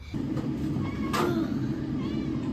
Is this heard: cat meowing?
yes